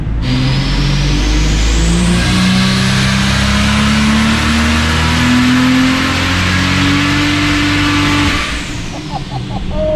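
A turbocharged Ford Barra engine on a hub dyno revs hard through a long, climbing pull, a loud howl sweeping upward for about eight seconds before the throttle drops off into a few sputtering pops.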